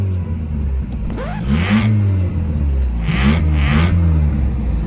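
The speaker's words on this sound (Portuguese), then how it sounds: "Motor tá pocando, olha." A car engine revs repeatedly, with rising and falling bursts over a steady idle, loud and close, no talking.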